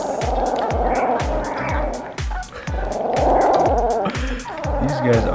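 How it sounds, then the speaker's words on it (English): Continuous rumbling purr-like sound up close, with rhythmic low pulses and wet chewing noises layered over it. "These guys are purring like"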